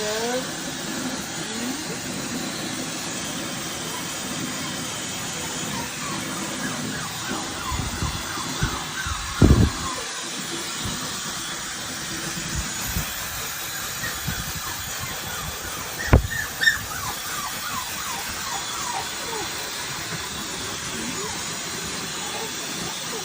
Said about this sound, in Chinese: 你也是用上了戴森吹风机的小狗狗。